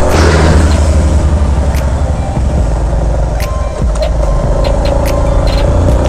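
A Honda RS motorcycle engine labors uphill in first gear on a mountain road between Nasugbu and Tagaytay. It makes a steady, loud, close drone throughout, with wind rush over it and no talk.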